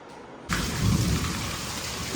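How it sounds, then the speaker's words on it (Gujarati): Heavy rain begins suddenly and keeps pouring in a dense, steady hiss, loud and close. "જો વરસાદ ફૂલ આવે છે"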